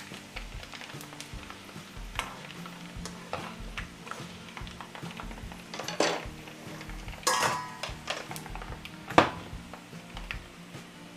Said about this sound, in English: You hear it snap, crackling and popping.